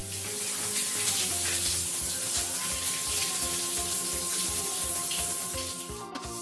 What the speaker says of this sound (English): He is taking a shower.